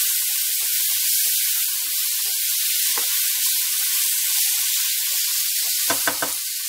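Chopped tomatoes fry for a Tamil fish curry, giving a loud, steady, close sizzle throughout with a few soft stirring knocks and a brief scraping burst near the end.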